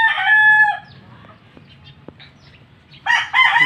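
A rooster crows loudly at the start and again near the end. Between the crows, quieter chicken clucks and a few short sharp knocks sit over a low steady backyard hum.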